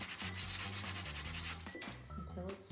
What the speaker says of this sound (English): sanding over where it's spackled